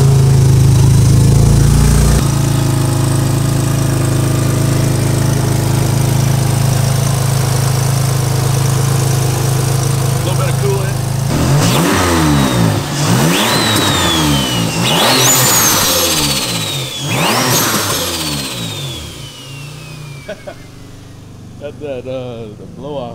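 A turbocharged Acura TL engine cranks and catches, idles loudly, then is revved hard in repeated rising and falling bursts close by, with a brief voice beforehand.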